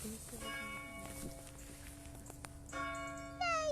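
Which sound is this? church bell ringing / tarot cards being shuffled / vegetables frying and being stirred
church bell ringing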